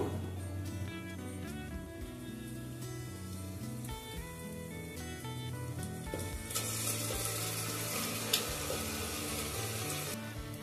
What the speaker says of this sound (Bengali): তাহলে এবার আমি চিকেনটা দিয়ে দেবো।